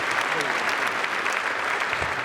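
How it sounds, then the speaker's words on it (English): Audience applause at a boys' state opening ceremony, dense continuous clapping from a large crowd filling the moment, with brief voices mixed in. "So let's clap it up for Cortez Moss, our assistant director."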